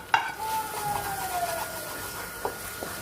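Tempering sizzles in hot oil as it is added to tomato thokku, a steady close crackle with a bright whistling tone gliding down over the first two seconds and a couple of sharp clinks near the end.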